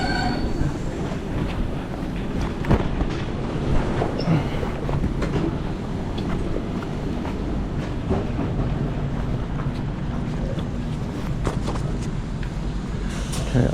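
A passing Polish intercity train at a Kraków station rumbles steadily with rhythmic wheel clatter and occasional squeals, fairly close and continuous for the whole stretch.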